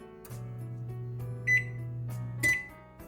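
An oven control panel gives two short, clear electronic beeps about a second apart while being set to broil, over a steady low hum in a quiet kitchen.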